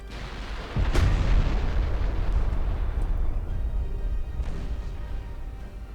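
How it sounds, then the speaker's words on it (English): Battleship main guns fire in a naval combat game, a deep booming blast followed by a rumbling roll, with a fainter second report a few seconds later. "Are you gonna fire your main guns?"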